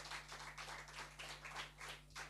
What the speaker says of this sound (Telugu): గట్టిగా చప్పలు కొట్టండి